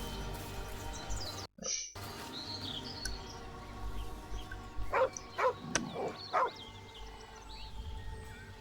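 A few short dog barks from the video game Baldur's Gate 3, moderately close, sound over a quiet ambient background with faint bird-like chirps and a brief dropout.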